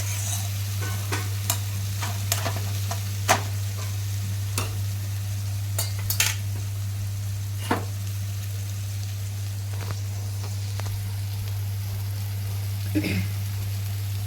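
Masala for urad dal sautéed in oil, a soft steady sizzle with scattered sharp clicks and scrapes of a spoon against the pan, over a constant low hum.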